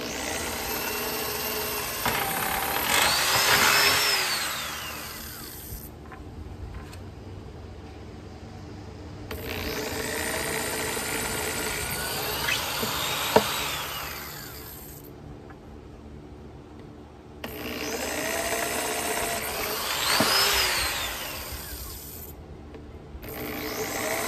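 A power drill bores holes in a series of separate bursts, each with a whine that rises and falls as the bit bites in, broken by short quiet gaps, at close range.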